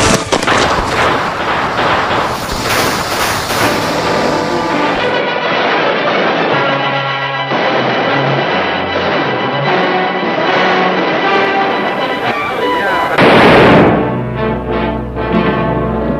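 A Western cowgirl shootout plays out with loud gunfire and booming shots over dramatic orchestral film music, the scoring shifting midway and swelling again near the end.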